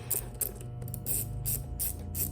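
A 7mm socket ratchet loosening an intake hose clamp on an Audi RS5, giving several short bursts of close, dry ratcheting clicks with brief pauses between strokes, with no talk over it.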